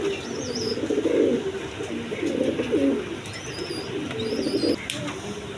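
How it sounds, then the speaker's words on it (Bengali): Several pigeons, German seal red, coo in low, repeated throaty phrases close by, with faint chirps and a brief flutter near the end. "এক পেয়ার জার্মান সিল রেড কালারের মধ্যে দেখেন, একদম কোয়ালিটি সম্পন্ন কবুতর"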